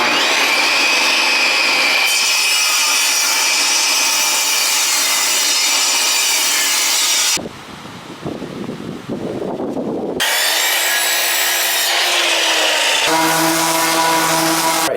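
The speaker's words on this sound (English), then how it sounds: "I have all my little pieces here I need to cut" Reclaimed wood pieces being cut with a power saw, a loud, steady whining cut that runs for several seconds, briefly drops to a rougher grinding rasp, then resumes with a higher-pitched whine, all close up and without talk.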